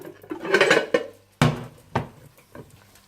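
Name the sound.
flipping Spanish omelette with plate and pan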